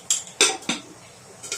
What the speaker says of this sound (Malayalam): നമുക്ക് ഈ കുക്കർ അടച്ചു കൊടുക്കാം.